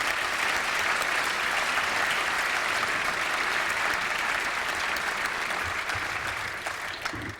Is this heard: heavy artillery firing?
no